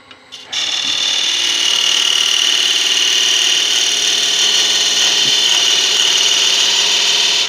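A woodturning lathe spins a wooden box while a tool hollows out its interior, a loud, steady, continuous cutting hiss that begins abruptly after a couple of brief knocks and runs close up without any talk.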